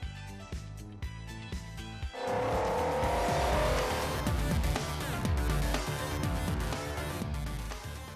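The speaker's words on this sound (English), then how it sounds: "battery-powered Abarth 500e with its speaker-based exhaust note" A loud, synthetic-sounding car engine roar from the speaker-based exhaust note of an electric Abarth 500e swells in after a short quieter start, holding a strong rising tone as the car accelerates, with tire noise underneath.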